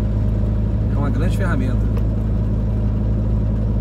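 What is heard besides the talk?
Scania nine-axle truck accelerating past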